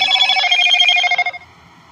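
A telephone rings in a room with electric guitars and a banjo nearby, a clear close electronic trill lasting over a second before cutting off into quiet.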